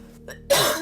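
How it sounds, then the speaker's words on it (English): A single short cough sounds sharply at close range after a brief throaty catch, with no other sound around it. "I keep coughing, there's this little tickle in my throat."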